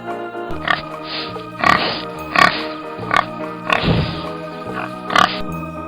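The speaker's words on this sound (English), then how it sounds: "Pig." Pig grunting and oinking in a run of short, close snorts spaced about a second apart, loud and clear with no talk.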